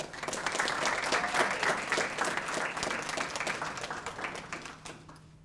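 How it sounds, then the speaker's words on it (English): An audience at a high school IB ceremony applauds two students, with a steady round of dense clapping that holds for several seconds before tapering off at the end. "So please give a round of applause for Victoria and Josie."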